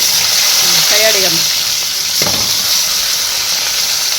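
Chopped vegetables hit hot oil in a pan and are stirred, giving a loud, steady sizzle and hiss with a brief scrape partway through, while a voice is heard faintly.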